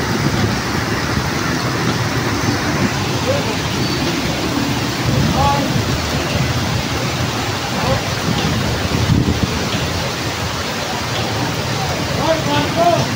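Very heavy evening rain pours down in a dense, steady roar with wind gusts, a sudden storm-strength downpour in the Philippines, sustained and loud throughout.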